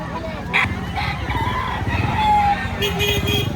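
A rooster crows amid the bustle of a chicken market in Lipa, Batangas, its call rising over a busy background of crowd noise and nearby talking voices.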